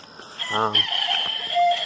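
A young black Wyandotte cockerel crows once, a short, close, harmonic call that cuts off quickly, with faint bird chatter in the background.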